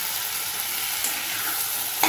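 Broad beans, brinjal and potato are stirred through a sizzling masala in a pan, a dense close-up frying hiss with a spoon scraping and a sharper clack at the very end.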